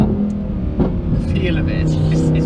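Inside a Lamborghini Huracan Performante, the engine drones loud and steady with a brief shift blip and rising revs, while people talk over it.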